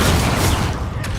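An Incendio fire spell is cast in Hogwarts Legacy, a dense, roaring burst of crackling flame and impact noise that stays loud and continuous for its whole brief length.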